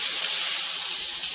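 Steak searing in bacon grease inside an air fryer under high heat, a steady bright hiss and sizzle with no break, close and fairly loud, with no voices.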